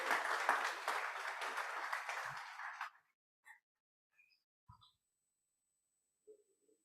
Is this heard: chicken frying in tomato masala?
no